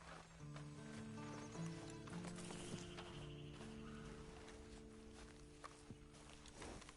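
Horse hooves clip-clop steadily at a walking pace in the video game Red Dead Redemption 2, with occasional soft whinnies and snorts mixed in over a low ambient game background.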